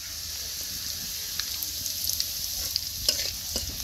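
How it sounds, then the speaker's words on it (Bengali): Cumin seeds go into hot oil with browned onions, crackling and sizzling steadily in a village kitchen. Sharp little pops rise above a continuous frying hiss at close range, with no speech. "পেঁয়াজটা বাদামি হয়ে গেছে, এখন আমি জিরাটা দিয়ে দিচ্ছি।"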